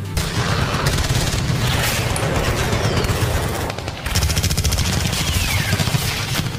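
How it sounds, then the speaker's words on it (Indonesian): Loud, sustained rapid gunfire, continuous bursts that pause briefly and then resume with the same intensity. "rentetan tembakan keras terdengar, memecah kesunyian malam"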